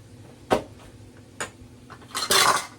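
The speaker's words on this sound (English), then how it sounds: "give it a little stir" A spoon clinks against a pot of brothy beans as they are stirred, a few sharp metallic knocks spaced apart, ending in a brief louder scraping flurry, close by in a quiet kitchen.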